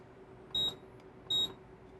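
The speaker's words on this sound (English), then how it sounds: "hold on, we got some beeping here." Beeping in a home kitchen while candied orange peels simmer: two short, shrill electronic beeps a little under a second apart, clear against a quiet room hum.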